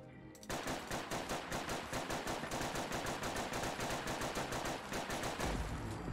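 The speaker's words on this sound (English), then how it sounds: "starting from the left, we're going to have the VZ-52 with its semi-automatic receiver." Rapid, steady semi-automatic fire from a VZ-52 rifle in Fallout 4, a continuous string of evenly spaced, punchy shots lasting several seconds before stopping.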